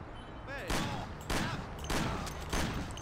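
Police gunfire rings out in a Mafia-style crime video game, with four or five loud separate shots or short volleys spread over a few seconds against a steady background din, while a voice speaks faintly in between.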